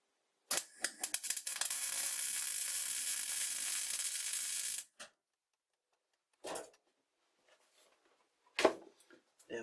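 Welding a lathe tailstock lever sends out a harsh, crackling burst of spatter that sizzles steadily for about four seconds, followed by a few short, sharp clicks and scrapes in the quiet afterward.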